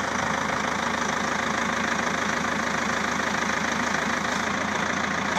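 Backhoe engine running steadily near, a continuous loud mechanical drone with a low rhythmic throb, alone without talk.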